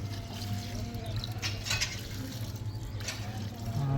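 Water poured from close by around the base of a freshly planted lime sapling in a rooftop drum, a soft continuous trickle and splash lasting several seconds with faint background hum.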